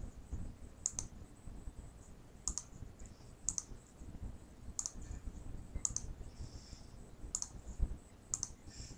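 Computer mouse clicks in SmartNotebook software, sounding as six sharp, evenly spaced taps over a low background hum, close and fairly quiet.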